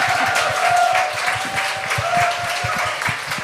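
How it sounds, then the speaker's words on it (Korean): An audience at a church-based panel discussion for Christian artists bursts into quick, dense clapping. The applause stays fairly even throughout with a faint voice underneath. "빨리 박수 치세요."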